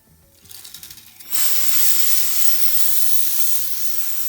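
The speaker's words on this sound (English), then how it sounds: "we're just brushing that dust off" A wire brush scrubs dust off the coils of a De'Longhi dehumidifier: about a second of quick, rhythmic scraping strokes, then a loud, steady, close hiss of continuous brushing that runs to the end.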